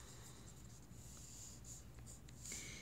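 A pen scratches steadily across paper, close and quiet, as a math unit conversion problem is written out, with short strokes and faint taps over low background hiss.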